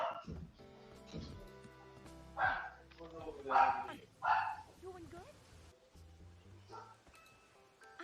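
Several dogs bark in the room during a Bugsnax speedrun, with a few sharp separate barks rising over quieter game music and background sound.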